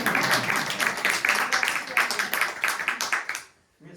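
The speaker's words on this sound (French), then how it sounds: "On l'applaudit." Audience clapping at an art evening event, dense and steady applause for about three and a half seconds before cutting off, with a voice briefly heard at the end.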